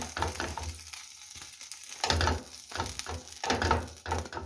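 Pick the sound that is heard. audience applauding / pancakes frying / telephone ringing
pancakes frying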